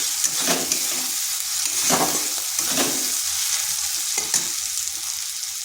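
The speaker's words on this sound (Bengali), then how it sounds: "আদা রসুনটা একটু ভেজে নিচ্ছি যাতে তার কাঁচা গন্ধটা চলে যায়" Ginger and garlic fry in hot oil with turmeric for a mushroom curry, a steady close sizzle broken by several rhythmic scraping stirs of a spoon against the pan.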